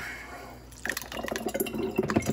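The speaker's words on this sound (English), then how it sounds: "Now, we're just gonna pour this in" Fermented Louisiana-style hot sauce poured into a bottle, a close gurgling, splashing stream that starts abruptly and keeps glugging unevenly for a couple of seconds with no talking.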